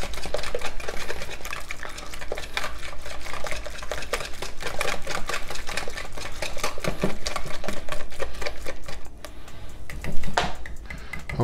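Eggs are whisked briskly in a bowl, a fast continuous clatter of a whisk against the sides that runs steadily throughout and ends with a louder knock.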